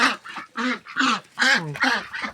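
Young muscovy ducks calling in a run of about seven short, breathy, honking calls, close and fairly loud, with no talk over them.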